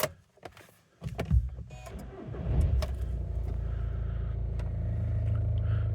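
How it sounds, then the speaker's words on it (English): A 2013 Seat Leon FR+ 170 TDI diesel fires up after a brief starter crank, then settles into a steady, close, low idle rumble that carries on without any talk. "I'll just start it now so you can see there's no warning lights"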